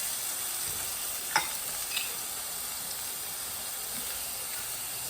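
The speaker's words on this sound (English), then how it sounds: "You hear that sizzle, right?" Constant soft sizzle of minced garlic frying in a pan, broken by a couple of light scraping clicks; fairly quiet and without talking.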